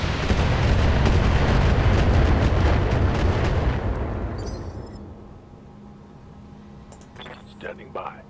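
Mech weapons in BattleTech unleash a loud, sustained roaring barrage that rumbles and fades over several seconds, followed by quieter clinks and brief voices.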